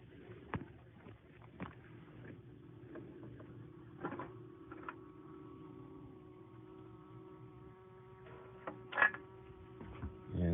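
Bumble bees buzzing inside a nest built in a wooden bird house, a faint steady drone with a few sharper close passes and brief clicks of handling.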